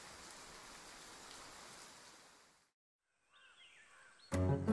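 Steady rain falls through the night for a couple of seconds, then cuts to near silence, followed by faint tonal calls and a sudden loud burst at the end.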